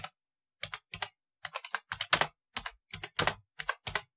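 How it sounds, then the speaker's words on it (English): Rapid bursts of computer keyboard typing, close and crisp, with irregular clusters of keystrokes and short pauses between them, heard alone. "A lot of typing going on."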